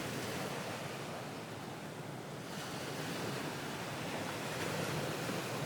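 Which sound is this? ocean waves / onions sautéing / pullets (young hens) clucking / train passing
ocean waves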